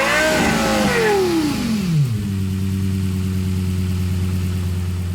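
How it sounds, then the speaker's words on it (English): A 2010 Lexus LFA V10 engine in Gran Turismo 7 revs high, then drops sharply over about two seconds and settles into a steady low idle, close and loud. "This is another great sounding V10 engine and a great addition."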